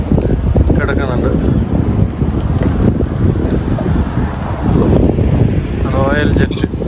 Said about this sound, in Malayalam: ആഹാ, എന്താ കാറ്റെന്ന് പറയുക, സൂപ്പർ കാറ്റ് അവിടെ